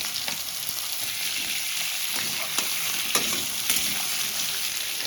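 Potato and kohlrabi sizzle steadily with onion in hot oil in a pan, a close, even crackling hiss with a few sharp pops and stirring taps.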